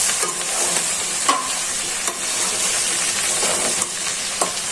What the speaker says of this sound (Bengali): এখন নেড়ে চেড়ে ভেন্ডিটাকে ভালো করে ভেজে নিই।